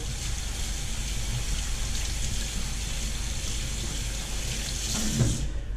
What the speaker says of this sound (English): So I'll give this board a quick wash and we'll move on to the next one, get that ink off it